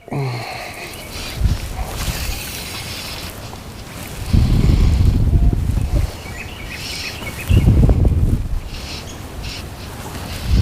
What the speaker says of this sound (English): Here comes my wind back.